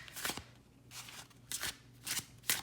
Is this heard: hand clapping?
no